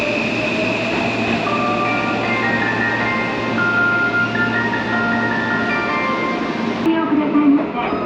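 A Seibu Railway local train bound for Hanno pulls into platform 5, its motors humming and brakes whining in rising and falling tones as the cars roll in steadily, ending with a sharp hiss and clunk as it stops.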